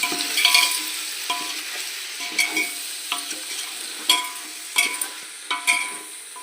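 Chicken biryani sizzling in a pan while a spoon scrapes and stirs in a coriander, mint and green chili paste, with repeated rhythmic metallic scrapes over a continuous frying hiss.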